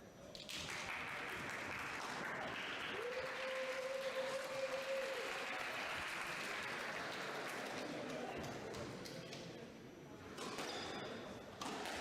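Audience at a squash final applauds steadily for most of the stretch, a broad wash of clapping from the surrounding crowd that tapers near the end, with faint commentary voices underneath.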